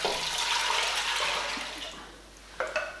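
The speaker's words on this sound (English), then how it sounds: "I've just got some hot water here, and I'm just going to fill it up" Hot water poured steadily into a pot, a close, splashy gushing that gradually softens, then a couple of brief knocks at the end.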